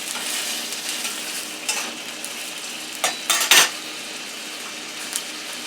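Home fries browning in a frying pan give a soft, steady sizzle, broken by several sharp scrapes and clinks as a utensil stirs them against the pan.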